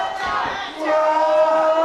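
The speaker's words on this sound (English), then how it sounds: "The crowd are demanding another body slam" Wrestling arena crowd roaring and chanting at a mixed tag team match, a sustained loud swell of many voices that surges louder midway and holds.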